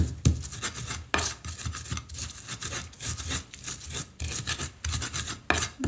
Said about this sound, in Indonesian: Saya akan dekatkan cabenya dulu yang saya ulek.